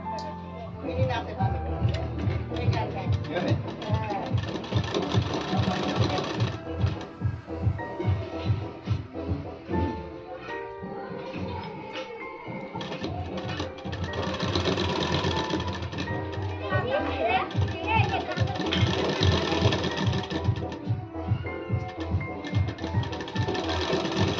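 Sewing machine stitching the elastic waistband of a baby skirt made from old jeans, running in steady rapid bursts with a brief pause midway, close and loud; a voice talks over it.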